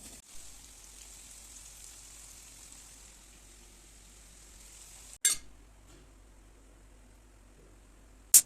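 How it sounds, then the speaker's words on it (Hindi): Dal being tempered in a home kitchen, a steady soft sizzle and hiss running continuously, then two brief sharp clatters near the end. "और अब मैं फिर बाद में दाल भी छौंक दूंगी"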